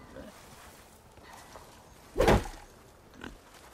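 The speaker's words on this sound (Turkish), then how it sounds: "burada domuzlar var" Pigs in the video game Horizon Forbidden West give one loud short grunt up close, then a fainter grunt a second later over quiet game ambience.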